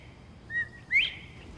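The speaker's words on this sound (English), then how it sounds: "The bobwhite, or quail, is one of the easiest birds to imitate because it always says its name." A bobwhite quail gives its two-note whistled call once: a short, clear first note, then a louder, upward-slurring second note, crisp and fairly close against a quiet background.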